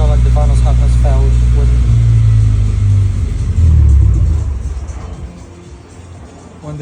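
A BMW 420i with a B48 engine and a faulty stuck exhaust camshaft Vanos valve idles with a low, steady rumble, briefly swelling louder before settling and fading lower; no talking over it.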